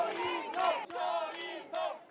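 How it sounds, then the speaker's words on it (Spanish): At a tense political walkabout, a crowd shouts in bursts of raised voices, with some cheering and some booing mixed together in a short, loud stretch. "aplausos y gritos de apoyo de algunos vecinos que luchan contra los abucheos, pitidos e insultos de otros"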